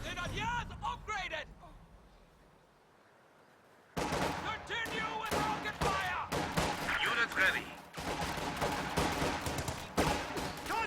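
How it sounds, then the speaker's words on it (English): Machine gun suppressing fire from a squad in Company of Heroes 2, with dense gunfire and battle noise under a commentator's voice; the shooting kicks in suddenly after a quiet stretch and carries on in bursts. "Suppressing fire on the ogres."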